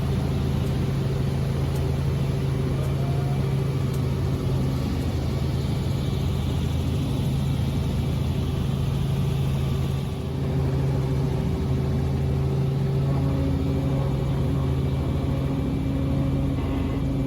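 A steady, droning helicopter engine and rotor hum runs continuously and loudly throughout a flight over the active Mount Aso volcano in Kyushu, Japan, with no voices.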